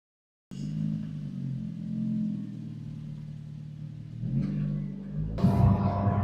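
A car drives along with a steady low engine rumble and road noise, the engine revving up a little near the end.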